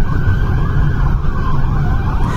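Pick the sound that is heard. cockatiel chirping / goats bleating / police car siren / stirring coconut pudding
police car siren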